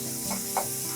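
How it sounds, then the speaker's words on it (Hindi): Chopped onions hit hot oil in a pan for keoti mixed dal, giving a brief burst of bright, hissing sizzle with a soft clink of a spoon. "अब हम प्याज डाल देंगे।"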